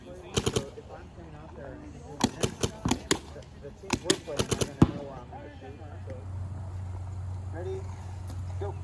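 Rapid gunshots ring out during a shooting drill, sharp cracks in quick groups of two to four close by, separated by short pauses, followed by a steady low hum.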